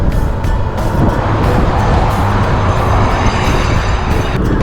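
A car drives up near a beach, its engine and tyre roar loud and steady throughout, with wind noise on top.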